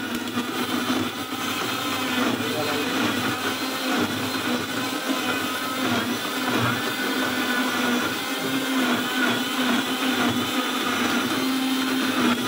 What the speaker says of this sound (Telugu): అయ్యానండి మిక్సీకి పడతాకి పెడుతున్నా.